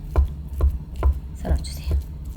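Spam chopped finely with a knife on a board for a potato dish, four or five crisp, evenly spaced thuds standing clear against low kitchen rumble.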